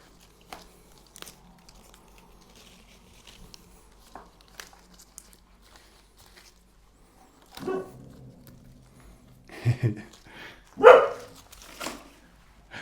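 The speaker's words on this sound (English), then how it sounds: "she's helping me today by acting as a guard dog" A small guard dog indoors gives a few sharp barks near the end, after a mostly quiet stretch broken by faint crinkling and light handling noises.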